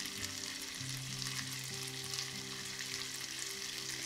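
Chicken pieces fry in a butter garlic sauce in a pan, giving a constant, close, bright sizzle with no pauses, over a faint low hum.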